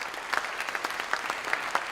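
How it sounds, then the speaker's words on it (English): A crowd at an eighth grade recognition ceremony gives a final round of applause for the promoted class, brisk, dense clapping with scattered sharper claps standing out, steady and fairly close. "one last round of applause"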